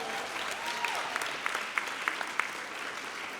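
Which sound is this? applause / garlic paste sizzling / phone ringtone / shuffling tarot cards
applause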